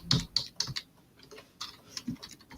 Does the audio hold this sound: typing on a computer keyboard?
yes